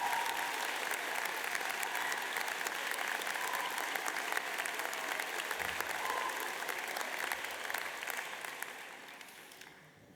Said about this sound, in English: stand up and give them a round of applause to thank them for everything that they've done